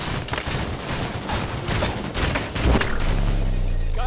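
Loud, continuous automatic gunfire in a Halo 5: Guardians beta multiplayer match, rapid overlapping shots with a heavier boom near the end.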